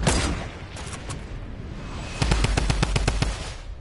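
Gunfire from a PS4 video game: a steady wash of distant shooting, then a loud rapid burst of automatic shots near the end, with no talking.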